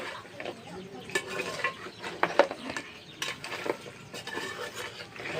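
Goat head and bone curry being stirred in a cooking pot, with soft scraping and clinking of a spoon against the metal and a faint sizzle, steady and close with no talk.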